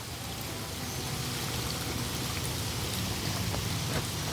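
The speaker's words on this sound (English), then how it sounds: "The rain has definitely begun to calm down, but it's probably gonna pick up again soon" Steady, dense rain falls on a flooding North Carolina backyard during Tropical Storm Isaias, a constant close hiss without any break.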